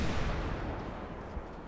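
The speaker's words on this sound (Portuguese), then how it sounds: "Vou jogar aquela bombinha." A bomb explodes in GTA 5 during a zombie outbreak, a loud, booming blast whose low rumble slowly fades over almost two seconds.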